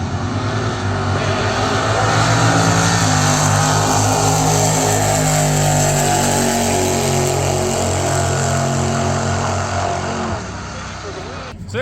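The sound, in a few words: Crown Victoria drag racing cars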